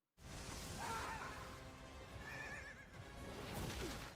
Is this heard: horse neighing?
yes